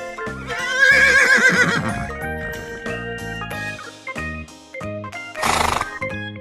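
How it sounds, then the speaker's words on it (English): Two horse neighs sound over steady background music: a long, wavering whinny early on, then a shorter, bright burst near the end. "Horse."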